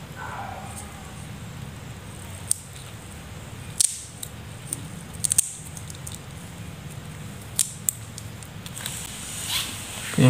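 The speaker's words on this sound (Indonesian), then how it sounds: "Kita sobek saja selongsong ini dan kita ambil fuse thermalnya teman-teman." Scissors snip through a thermal fuse sleeve while a dynamo motor is repaired, a few sharp isolated cuts and clicks spread over a quiet background.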